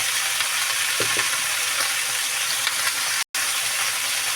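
Vegetables fry in hot oil in a pan for a rohu fish curry with winter vegetables, a dense steady sizzle with a couple of soft stirring knocks and a brief cut near the end.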